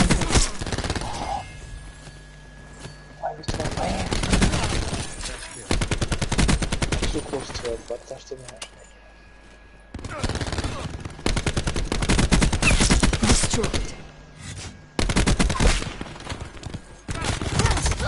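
Bursts of rapid video game gunfire from a PS4 shooter come in loud clusters separated by brief lulls, with a voice speaking between the volleys.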